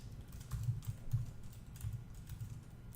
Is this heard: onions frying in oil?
no